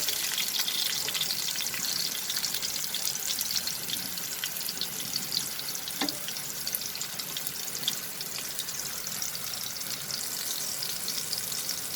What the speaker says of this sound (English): Fry it over medium flame.